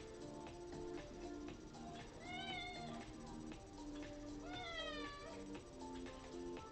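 A cat meows twice in a quiet indoor room, two drawn-out rising-and-falling calls a couple of seconds apart, faint beneath low background noise and music.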